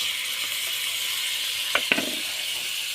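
Chili powder, turmeric, and garlic and ginger pastes fry in a pan with a steady, even sizzle. Two brief clinks sound near the end.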